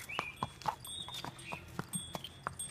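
Horse hooves clip-clop along a steep mountain path near Nainital, a series of sharp, close knocks in an uneven walking rhythm, with a steady hiss of background ambience underneath.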